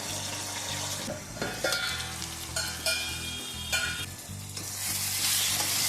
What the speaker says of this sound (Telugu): అప్పుడప్పుడు మధ్యలో కలుపుకుంటూ ఉండాలన్నమాట మెత్తగైన తర్వాత హీట్ అయిన తర్వాత మళ్ళీ సిమ్లో పెట్టుకొని ఉడికించుకోవాలి